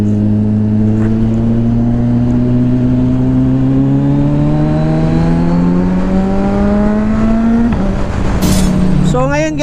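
A Kawasaki Ninja 1000 SX motorcycle pulls hard in road mode, the engine note climbing steadily and loud through a long rising rev before a quick shift and a brief blip of wind and mechanical noise.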